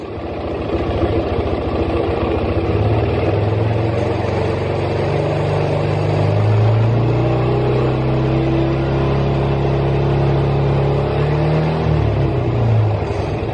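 A Yamaha scooter engine during a stator coil charging test runs loud and close, rising in pitch as the throttle opens and holding a steady revving drone before easing back down near the end.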